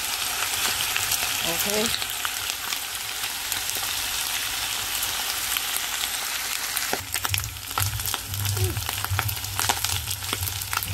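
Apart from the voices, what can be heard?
garlic pigtails frying in corn oil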